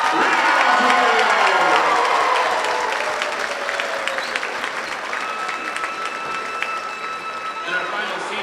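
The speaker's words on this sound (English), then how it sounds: "Ladies and gentlemen, nice round of applause for number 28, Kiora Ridgway" A crowd applauds and cheers loudly in a gym during senior recognition at a high school volleyball match between Central Catholic and Clackamas, the ovation sustained and slowly easing off with some voices in the mix.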